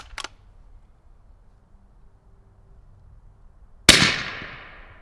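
A small click early on, then a single sharp, loud rifle shot crack near the end with a ringing, decaying tail.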